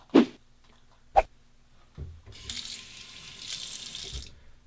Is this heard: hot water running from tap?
yes